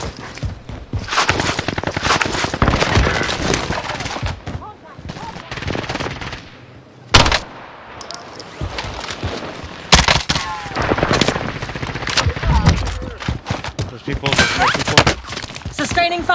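Video game gunfire: dense, rapid automatic bursts and single shots crackling almost continuously, loud and close, with players talking over the shooting throughout.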